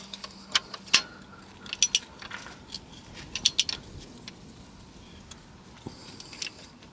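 Small metallic clicks and ratchet-like ticks come from bolts being tightened while an alternator is replaced on a 1.6 TDI engine. They arrive in short irregular bursts against a quiet workshop background.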